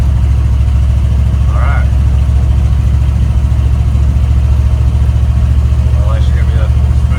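An old 1972 Chevy C10 pickup runs down the road with a loud, steady, low engine drone and rumble from inside the cab, and someone says a few words over it.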